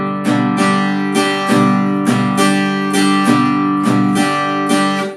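A guitar strummed in a down, down, up, down, up pattern repeats the cycle several times, with strong downstroke accents and lighter upstrokes ringing out steadily and close, alone without talk.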